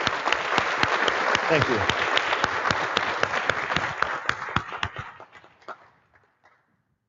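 A community audience gives a sustained round of applause at a presentation, the clapping dense and loud before thinning out into a few last scattered claps; a voice briefly says thanks over it.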